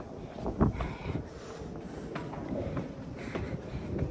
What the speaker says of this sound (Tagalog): Lakas nga ng hangin.